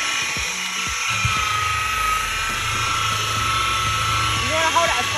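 Polisher running at 1800 RPM on the gel coat of a center console boat, a loud steady high-pitched whine held throughout, with a voice speaking underneath.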